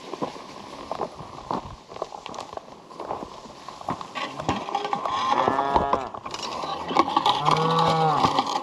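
Cattle mooing on a farm as the herd is driven along, several drawn-out moos rising toward the end over shuffling hooves and movement, moderately close.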